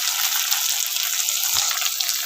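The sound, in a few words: tomatoes added to poha in a pan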